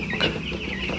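Chickens on a poultry farm cluck briefly and close by over a busy background of birds.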